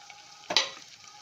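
Tomatoes tipped into a hot pan of reddened onions with mustard seeds and cumin for a Nagpuri Saoji curry give a sudden short burst of sizzling over a quiet background of frying.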